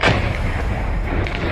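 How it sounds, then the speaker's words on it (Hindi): Artillery guns shelling border posts along the Durand Line, a heavy booming blast followed by rolling rumble and crackle, dense and loud throughout with no voices. "फिर तोप से गोले दाग दाग कर पाकिस्तानी चौकियों के चीथड़े उड़ा डाले"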